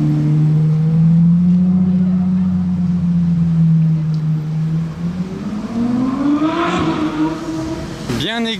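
A high-pitched V12 sports car passing on a street in Monaco, its loud engine drone holding steady, then rising in pitch as it revs and pulls away, ending in a sharp sweeping burst, with faint voices underneath.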